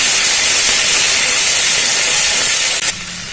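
Grated green chilies sizzle in hot oil for tempering a Bengali tomato potato curry, a loud, steady hiss of frying that holds throughout, then drops sharply quieter near the end.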